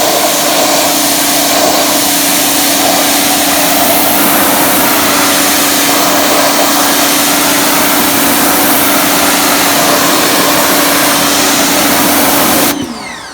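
A pressure washer sprays weathered wood with a loud, continuous hissing roar and engine drone, held close and steady for most of the clip before it cuts off abruptly at the end.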